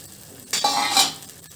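Tamarind water poured into a hot tempering for temple-style pulihora bursts into a loud sizzling hiss on high flame, with a metal spoon clinking against the pan, brief and close.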